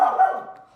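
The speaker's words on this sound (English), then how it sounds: "My dog just chose to start barking right this minute, of course" A single dog bark, loud and close, with a slight whine trailing off over under a second, heard alone in a home kitchen.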